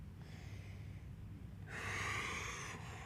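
Deep breath taken while holding a stretch: a faint, brief intake followed by a longer, louder breathy exhale, close to the listener and unaccompanied by speech.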